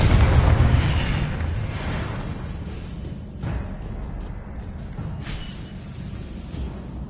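Confringo blasting-spell explosions in Hogwarts Legacy combat, a loud booming burst at the start followed by rumbling tails and further softer pops under continuous low roar.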